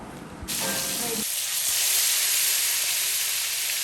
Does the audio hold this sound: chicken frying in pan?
yes